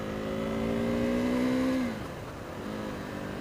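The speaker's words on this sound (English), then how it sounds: "I'm out doing a first ride on a KTM" A KTM 390 Duke motorcycle being ridden, its engine a loud, close steady drone with a held rising tone that drops off near the end, mixed with wind rush.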